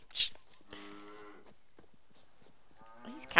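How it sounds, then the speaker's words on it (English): Cattle mooing in The Witcher 3: Wild Hunt, a long, low, harmonic bellow from a nearby cow followed later by a second rising moo, with faint ambient game sounds between and no talk. "These cows, I need to calm down."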